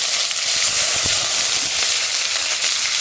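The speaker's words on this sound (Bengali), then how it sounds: "তেলটা গরম হয়েছে পাঁচ ফোড়ন তেজপাতা দিয়ে দিলাম এবার একসঙ্গে আদা জিরে ধনে পেঁয়াজ বাটা" Spice paste sizzling in hot oil with panch phoron and bay leaf, a continuous close, fairly loud frying hiss with small crackles throughout, no voices.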